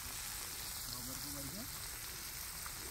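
Fish fries in hot oil with a soft, steady sizzle and crackle that continues without a break; the sound is faint and a voice murmurs quietly in the background.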